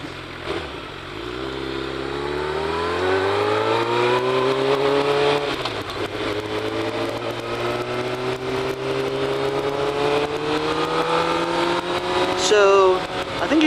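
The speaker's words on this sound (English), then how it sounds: "That's like an older woman on a Goldwing trike." A Honda Goldwing motorcycle trike passes on a canyon road, its engine drone rising and holding steady in pitch over several seconds beside the rider's own bike, with wind rush throughout.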